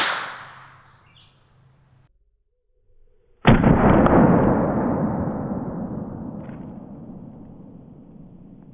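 A single sharp 22LR pistol shot fired at point blank into a target head, CCI Mini Mag round, loud and close with a long ringing decay, after quiet handling noises.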